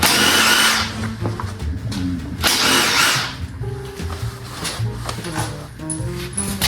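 A power tool loosening an axle bolt on a Honda Goldwing GL1800 motorcycle, running in two loud close bursts, the first lasting about a second and the second around two and a half seconds, with clanks and handling noise in between.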